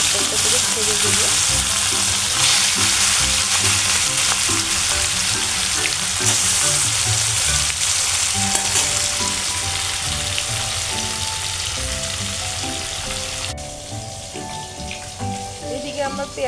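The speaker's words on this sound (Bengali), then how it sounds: "তেল গরম হয়ে এসেছে, এবার মাছগুলো একটা একটা করে ছেড়ে দেবো।" Glasscup fish fry in hot oil on a clay stove, a dense, loud, crackling sizzle that runs steadily and eases slightly toward the end, heard close with no talk.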